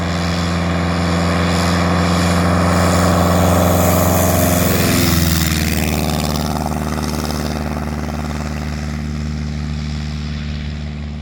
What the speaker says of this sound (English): there was lots and lots of Long Easies taking off as well